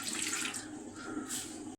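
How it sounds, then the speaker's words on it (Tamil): Tamarind water is poured into a kadai, giving a steady liquid splash and trickle that runs continuously for a couple of seconds, fairly close and moderately quiet, with no talking. "கடாய் வச்சுட்டு புளி தண்ணியை ஊற்றிடலாம்."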